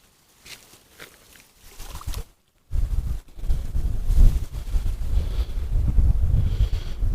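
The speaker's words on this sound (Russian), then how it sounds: "Дождик стих, а ветер остался." Gusty hurricane-force wind buffeting the microphone in low rumbling bursts at a fishing spot, growing stronger after a brief quiet gap, with faint rustling underneath.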